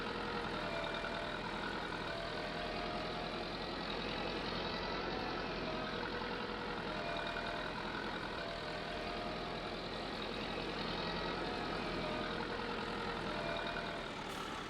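In Farming Simulator 22, a tractor and harvester engine drones low and steady, idling heavily with an unchanging rumble throughout. The sound is moderately quiet with no voices over it.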